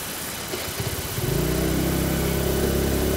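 A TVS Jupiter 110 scooter engine hums steadily while riding, rising from a rough start into a loud, continuous drone mixed with wind rush, with no talking.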